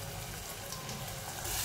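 Desi rooster curry sautéing with spices in a pan, a steady soft sizzle and frying crackle throughout, with no talking.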